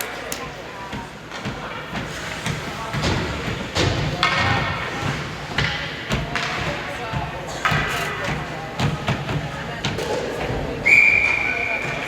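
Sharp shrill referee whistle blast near the end of busy youth U12 ice hockey game action, ringing out over rink thumps, skate and stick noise, and play-by-play commentary.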